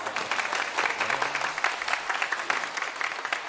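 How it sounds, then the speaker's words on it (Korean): A congregation claps during an Easter joint church service, a continuous wash of applause at moderate distance with no talk over it. "여러분 박수 좀 쳐주세요."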